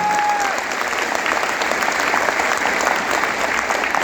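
Audience applause at a speech event, loud, dense, continuous clapping from a large crowd that holds steady across the whole stretch with no voice over it.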